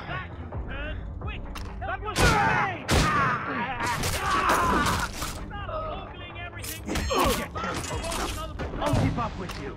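Gunfire in the video game Assassin's Creed Rogue, sharp cracking shots and bursts mixed with creaking ship and mechanical sounds and busy game noise, with someone talking over it.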